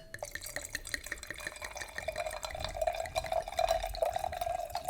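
Cabernet Sauvignon wine pours into a glass in a steady, close liquid stream with small drips and splashes, growing slightly fuller toward the end, with no talking.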